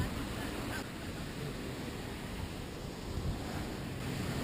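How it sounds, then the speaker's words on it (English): Ocean surf washes along the Japanese coast in a continuous broadband roar mixed with wind buffeting the microphone, steady and fairly loud with no clear breaks between waves. "Those waves are helping, I think."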